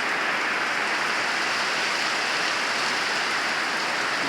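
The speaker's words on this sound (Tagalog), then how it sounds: "lakas talaga ng ulan." Heavy afternoon rain pours steadily, a dense, loud, unbroken hiss of water falling on surfaces with no voices.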